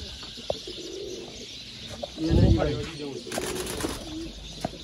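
A pigeon coos low and close, a short throaty burst in the middle, with faint chirps and rustling in a quiet room.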